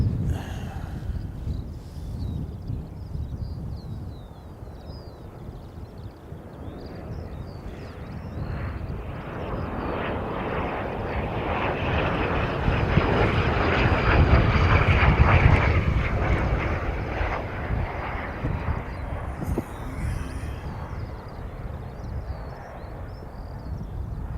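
ATR turboprop airliner passing a spotting mound on a very windy day, its engine drone building to a loud close peak midway and then fading, with wind buffeting the microphone throughout.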